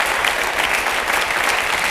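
Audience applause at a concert broadcast in Paris, a dense, steady wash of many hands clapping, loud and continuous with no voices on top.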